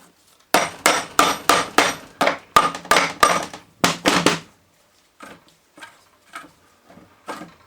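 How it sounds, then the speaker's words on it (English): A rubber hammer strikes a Ford Transit alternator bearing in a quick series of about eleven loud, sharp knocks, then several fainter, more widely spaced taps. "Just got to go around hitting it with the rubber hammer and then tightening the bolts up"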